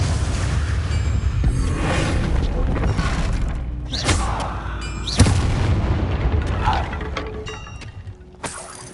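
A Bombarda explosion spell goes off in Hogwarts Legacy, with dense booming blasts and thuds over rumbling game effects. Sharp impacts land at about five and eight and a half seconds.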